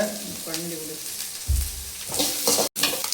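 Chicken fried rice ingredients being sautéed in a pan for street-style fried rice, with a loud, continuous sizzle and frying crackle, bursts of spatula scraping, and a brief dropout near the end.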